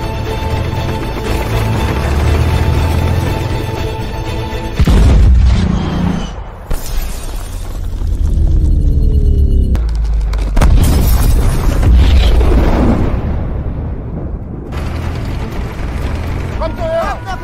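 Tank gunfire and heavy explosions from a war film about Soviet T-34 tanks fighting German forces, loud booming blasts and rumbling mechanical clatter, with brief shouted voices in between.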